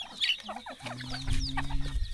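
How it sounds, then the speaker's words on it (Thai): Chickens, including a rooster, cluck while feeding at a rural Lao village home, a series of close, soft clucks and short calls alongside a steady low tone, with a quiet voice partly audible. "ไก่ก็กินแซ่บ"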